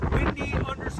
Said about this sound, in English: All this damn wind.